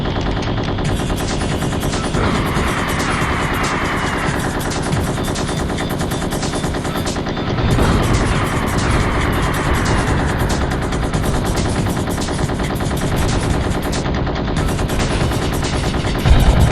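Rapid machine-gun fire in an Original Xbox mech video game, dense continuous rattling bursts with heavier booms mixed in, sustained and loud across the whole stretch with no talk.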